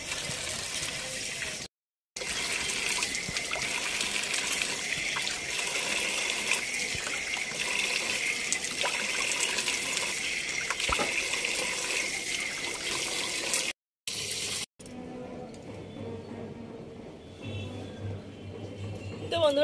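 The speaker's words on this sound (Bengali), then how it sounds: "তারপরে কিন্তু এটা নর্মাল জলে ধুয়ে নেবো" Water pouring and splashing steadily as a potato-peel face pack is rinsed off with plain water, a continuous close gush with two brief breaks and a quieter trickle near the end.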